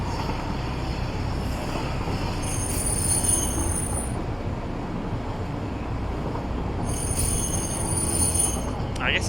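High metallic squeal of train wheels grinding through a sharp turn in the video game Satisfactory, a steady piercing screech that swells, fades and returns over continuous rumbling rail noise.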